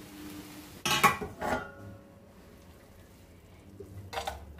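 Raw jackfruit curry is scooped from a pan into a serving dish: two short bursts of spoon-on-metal scraping and clatter, a quiet pause, then one brief clink near the end, with no talking.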